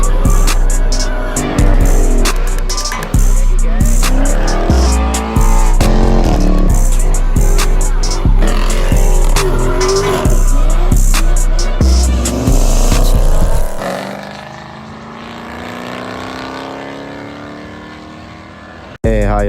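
Loud modified cars leave a car meet, engines revving hard and tires working through drifts, a constant roaring blare with sharp throttle blips, close and dominant, before fading into a quieter idle rumble near the end.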